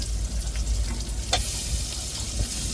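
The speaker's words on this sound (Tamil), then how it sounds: "இப்போ நறுக்கின தக்காளியை வெங்காயத்தோடு சேர்த்து வதக்கி விட்டுக்கிடுவோம்" Chopped tomatoes and onions sizzling and frying in a pan, a steady crackle with occasional stirring scrapes, close and continuous.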